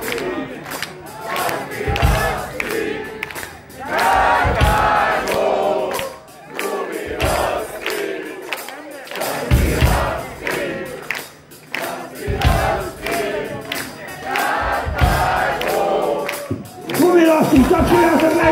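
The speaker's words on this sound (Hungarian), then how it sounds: "Tapsoljátok meg magatokat!" Large concert crowd at a live show cheering, shouting and chanting in loud repeated bursts, with thumps and a voice calling out over the roar.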